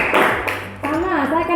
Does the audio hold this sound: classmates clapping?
yes